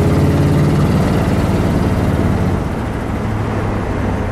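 A 1957 Ford Thunderbird engine idles through aftermarket mufflers, a steady, loud, low rumble that stays even throughout and is heard up close with no voices.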